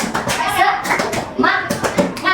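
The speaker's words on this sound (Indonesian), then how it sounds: "Yang belakang tepuk semangat." Schoolchildren in a sixth-grade classroom clap a rhythmic spirit clap together, quick bunched hand claps mixed with children's voices and chanting.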